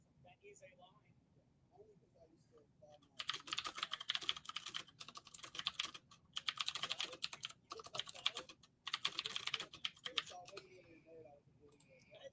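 Loud mechanical keyboard typed on in bursts of rapid clacking keystrokes, close to the microphone, separated by short pauses, with someone talking quietly before and between the bursts.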